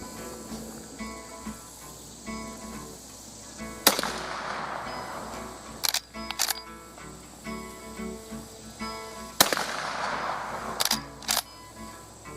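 Sharp gunshots from a reproduction gun ring out in two close pairs, loud and cracking with brief decays, against a quiet outdoor background.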